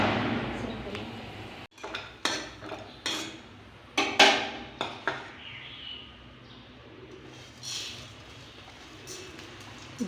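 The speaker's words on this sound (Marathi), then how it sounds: "धने भाजून घेत आहे।" Coriander seeds are dry-roasted in a pan, with a spatula clinking and scraping against the metal in a quick series of sharp taps over a soft, steady background hiss.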